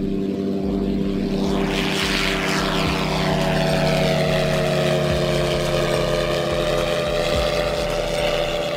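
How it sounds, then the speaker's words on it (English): A military drone's steady propeller engine drones continuously with a low, buzzing hum, fairly loud and unbroken throughout. "Military drone. Unmanned military aircraft."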